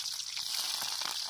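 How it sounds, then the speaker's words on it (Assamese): Onion and green chilli hitting hot oil, a loud continuous close sizzle with a bright hiss and no talk. "এইফালে তেল গৰম হৈ গ'ল এইফালে দিলোঁ পিঁয়াজ জলকীয়া দি দিলোঁ"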